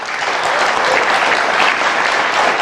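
Loud, dense applause fills a television studio as the audience claps for the panelists of a political debate show, a steady wash of many hands held at full strength throughout.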